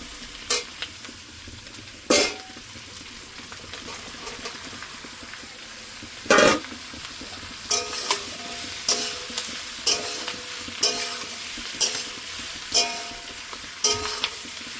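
Tomatoes go into a pan of onions already fried light red, with a steady broadband sizzle and a series of sharp, regular scrapes of a spoon stirring, close and loud, with no talking.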